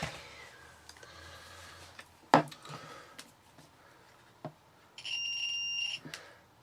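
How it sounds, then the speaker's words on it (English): A multimeter in continuity mode, probing the fuse of a 2015 Numatic Henry HVR200-12 vacuum cleaner, gives a single steady beep lasting about a second amid faint handling clicks and a quiet room. "I can set the multimeter to continuity mode"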